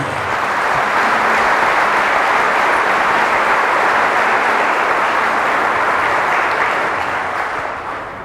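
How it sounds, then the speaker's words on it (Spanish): A church congregation breaks into strong applause, a sustained, even roar of many hands clapping that holds loud for several seconds and then begins to fade at the end, with no talking over it. "Fuertes aplausos a Jesús."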